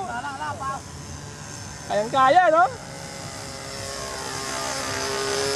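A remote-controlled model airplane, powered by a 4-piece 2,400 mAh battery, flies overhead at West Triangle with a thin, steady motor whine building slowly in the background while people talk and exclaim nearby.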